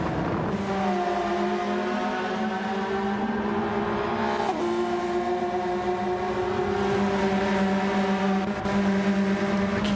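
GR3 GT500 race cars, NSX among them, lapping Brands Hatch in a racing game, several engines droning and whining together in sustained high revs with shifting pitch as they pass close.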